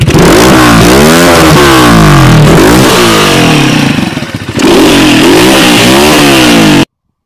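An Asian Beast 250 semi dirt bike engine runs close and loud, revving up repeatedly in rising and falling sweeps, with a short dip to idle midway before revving again, then cutting off.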